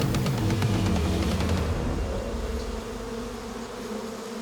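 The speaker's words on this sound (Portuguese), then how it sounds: "Tenho paixão por esse, para a abelha." A bee buzzes loudly and close in a rainforest setting, a continuous droning hum that fades slightly as it drifts away.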